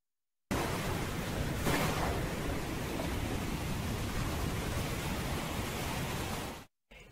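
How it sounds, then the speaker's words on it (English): Steady heavy rain in stormy weather, a dense unbroken wash of noise that starts abruptly, holds level and cuts off near the end, with no talking. "Yes, it's stormy."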